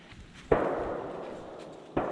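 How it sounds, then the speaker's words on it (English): Two sharp, distant cracks about a second and a half apart, each a single percussive impact with a short fading tail, an axe striking wood in a winter forest in southern Ontario. "just someone using an axe that sounds like a gunshot until you watch the video later"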